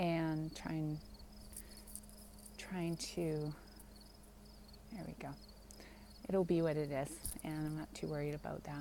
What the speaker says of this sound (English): you may hear the crickets from the river that's behind me.